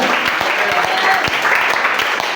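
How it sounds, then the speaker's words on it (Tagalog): A church congregation claps steadily and warmly throughout, a dense patter of hands filling the whole moment with a few voices mixed in. "Palakpak para sa Diyos, hallelujah."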